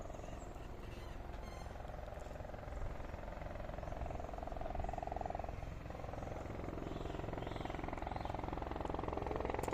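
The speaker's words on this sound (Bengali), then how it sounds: "এই হেলিকপ্টার আসতেছে, দেখেন।" A helicopter approaching a circular landing spot gives a steady, dense rotor-and-engine roar that builds slightly louder as it nears, with no talk over it.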